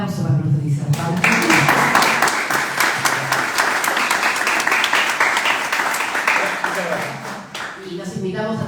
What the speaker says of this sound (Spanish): les pido un gran aplauso para nuestro disertante